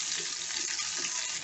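Onions sautéing in a pan, a short, even hiss of frying at moderate level with a faint stirring texture and no voices.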